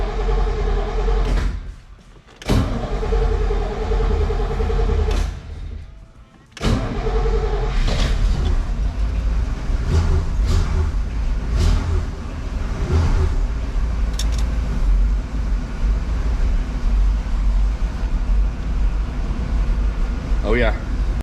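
A 1963 car driving along, its steady engine and road rumble running continuously from near, with a couple of brief dips and occasional rattles, while people talk over it.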